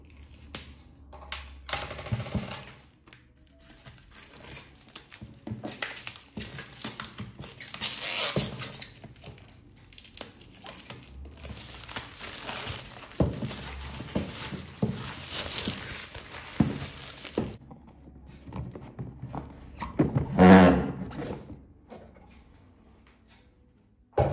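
Packaging of a boxed Imetec steam hair straightener crinkles and rustles nearby while it is opened, with scattered taps and handling knocks and a brief louder rustle near the end.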